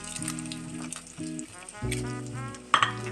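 Garlic and ginger sizzle steadily in hot oil in a pan for a fish curry, a close, continuous frying hiss with a brief louder crackle near the end and no talking.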